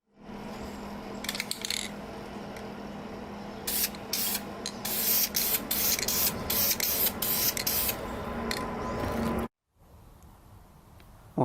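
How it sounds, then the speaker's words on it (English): Spray can or spray gun painting a Toyota 3SGTE engine block from an AW11 build, a continuous close hiss with short interruptions and a few brighter bursts, stopping near the end before faint background noise. "now let's start spraying on this side"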